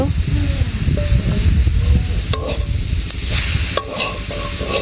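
Garlic paste frying and being stirred in a pan at home in a kitchen, a steady close sizzle with scraping stir strokes and a few sharp clinks toward the end.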